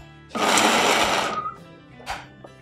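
An electric grinder whirs loudly for about a second while grinding nuts for a sweet snack, then winds down, followed by a short second burst close up.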